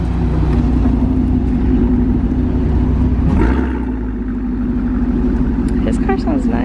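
A sixth-generation Chevrolet Camaro SS, said to push over 800 horsepower, rumbles at a car meet with a loud, deep, steady engine drone that eases slightly near the end, while people talk nearby.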